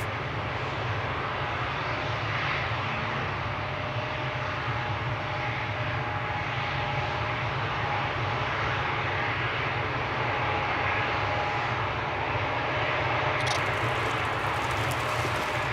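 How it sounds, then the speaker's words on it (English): A small private propeller plane takes off at Schiphol Airport, its engine a steady, distant droning roar held evenly throughout with no voices over it. "we have a little private plane taking off"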